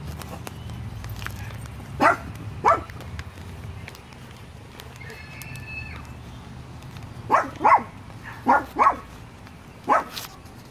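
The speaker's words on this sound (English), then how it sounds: "my dog barking is getting on y'all's guys' nerves" A dog barks in short sharp bursts at a distance indoors, two barks early on, then a cluster of five spaced barks, over steady background hum during an unboxing of succulents.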